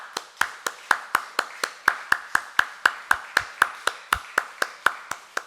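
A church congregation at a Sunday worship service claps in unison, about twenty sharp, evenly spaced claps in a steady rhythm, clear and close with no talking over them.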